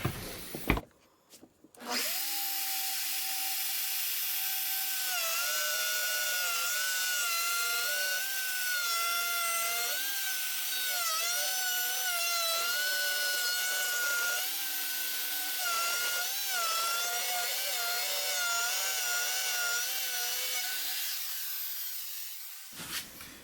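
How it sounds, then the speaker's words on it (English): A router cuts a 3/4 inch rabbet along a board of whiskey barrel wood, whining loudly and steadily with slight pitch wavers for about twenty seconds before it spins down. "this router will just run across the board here, and I'll create the 3/4 inch rabbet"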